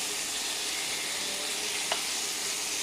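Pointed gourd (potol) frying in a pan in a home kitchen, a steady close hiss of sizzling oil running throughout with one brief sharper crackle.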